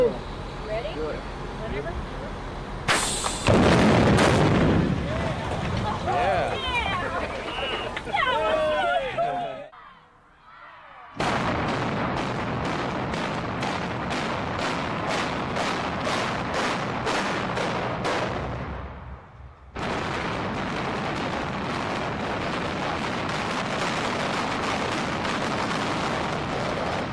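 Explosive demolition blasts: a loud sudden boom with rumbling aftermath, followed later by a rapid train of sharp charge detonations, with voices and crowd noise around them.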